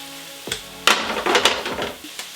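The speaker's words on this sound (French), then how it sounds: "On fait suer, on cuit l'ail." Garlic and onions sizzling in a pan while being stirred: a few sharp clatters and scrapes over a soft steady crackle of frying, close and fairly loud.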